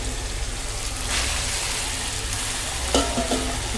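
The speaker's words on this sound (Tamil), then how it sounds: "தக்காளி போட்டாச்சு தக்காளியை நல்லா வதக்கணும்" Chopped tomatoes sauté in a pan for a goat intestine gravy, producing a continuous close sizzle that swells and fades with stirring, plus a couple of sharp utensil clicks near the end.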